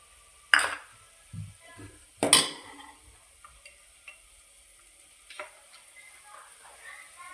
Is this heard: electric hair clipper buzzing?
no